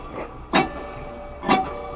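A beginner's guitar playing gives two muted, buzzy strums about a second apart, dull and short rather than ringing, close and fairly quiet, with no voices.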